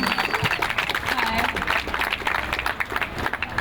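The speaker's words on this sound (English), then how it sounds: "Give her a round of applause, give her a little hype up a little bit" An audience claps and applauds for a speaker at an art mural event, a dense, sustained wash of many hands clapping at close range, steady throughout with a crowd murmur beneath.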